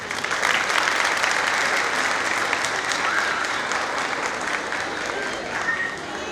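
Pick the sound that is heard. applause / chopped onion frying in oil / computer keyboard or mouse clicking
applause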